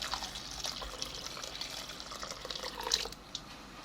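Water is poured over a small palm-sized hand mill to soak it, heard as a faint, quiet trickle with scattered light drips and splashes.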